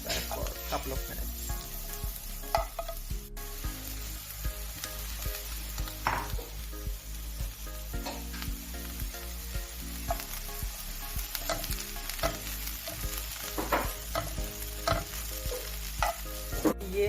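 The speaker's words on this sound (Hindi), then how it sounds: "just stir fry for couple of minutes" Mushrooms and spinach with salt and pepper being stir-fried in a pan: a steady sizzle with repeated scraping and tossing of a utensil. A voice talks over the cooking.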